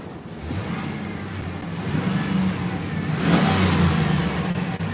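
A Chevrolet Silverado's 4.8-liter V8 runs steadily at close range, its low rumble rising as the engine is revved up twice, loud and with no talk over it.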